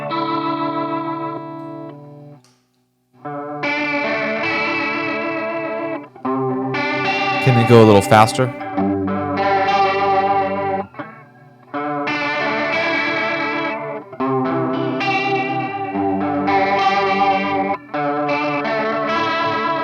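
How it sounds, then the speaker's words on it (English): Electric guitar chords played through a swirling chorus effect in short phrases separated by brief pauses, with a voice speaking briefly between them. "Сейчас сравним chorus sound с этой педалью."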